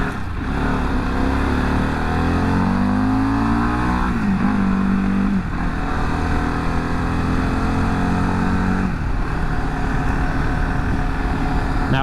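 A Harley-Davidson Pan America motorcycle accelerates through several gears, the engine note rising and dropping with each shift, loud and close over constant wind rush, then holding a steady cruise.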